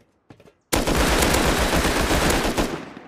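Automatic gunfire in the video game Rust comes as a loud, sustained burst of rapid shots lasting over two seconds, preceded by a couple of faint clicks. The burst is close and dominant, with no talking over it.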